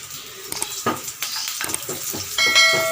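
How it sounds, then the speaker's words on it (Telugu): Lentils, dried red chillies and small garlic cloves frying in oil in a pan, a steady sizzle broken by scrapes and clinks of a metal spoon stirring against the pan. "ఇవి కొంచెం పప్పులు వేగనిద్దామండి"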